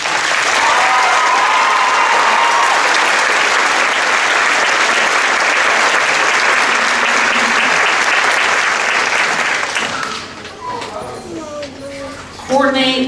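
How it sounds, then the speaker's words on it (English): Loud, sustained applause from a ceremony crowd for nursing graduates at a spring pinning ceremony, dense clapping that fades after about ten seconds into scattered voices and murmuring. "Give them one more round of applause."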